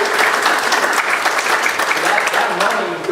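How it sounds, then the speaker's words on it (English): Audience at a Senator Ron Wyden town hall applauding the police: dense, steady clapping from a roomful of people, loud and sustained for the whole stretch. "let's have a round of applause for our police"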